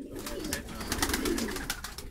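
Baku broad-tailed pigeons coo close by in low, rolling, repeated calls, with scattered rustling and faint background noise.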